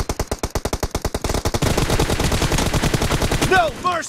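Rapid automatic gunfire from a shooting video game rattles loudly in a fast burst of shots, then merges into a dense continuous barrage with a few ricochet-like whines near the end; no speech.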